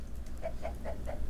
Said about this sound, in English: Check up on our chickens and see how much eggs they...